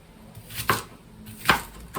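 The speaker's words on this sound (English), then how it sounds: "So let us also cut our onion." Two sharp knife chops through an onion on a board, spaced about a second apart, close and fairly loud with quiet between strokes.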